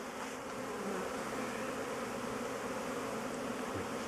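Honeybees fly at an apiary in a dense, continuous buzzing swarm, a steady mid-level drone of many wings with no talk over it.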